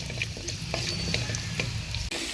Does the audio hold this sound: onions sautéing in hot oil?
yes